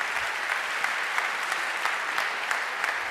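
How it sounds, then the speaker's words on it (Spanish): Audience applause at a national canoeing awards gala as two winners are called up, a steady dense clapping from a large crowd throughout, fairly loud and continuous with no talk over it. "Un aplauso fuerte para Antía Jacome y Victoria Yarchevska."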